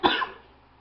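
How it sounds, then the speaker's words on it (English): A single short, close cough from a lingering cough bursts out and quickly fades, with no talking around it. "sorry, I still have a bit of a cough."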